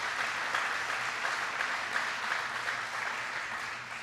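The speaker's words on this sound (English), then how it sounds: "Please give her a big round of applause" An audience applauds Congresswoman Gwen Moore at a clean energy event, steady, sustained clapping from many hands that holds evenly throughout and sounds somewhat distant and soft.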